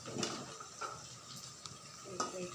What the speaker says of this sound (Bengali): নাড়াচাড়া করে দিলাম।